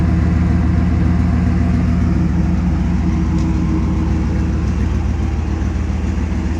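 A 1995 Chevy Camaro Z28 with an LT1 V8 and MagnaFlow exhaust idles in a steady, loud, low rumble that stays even and unbroken throughout, with no talking over it.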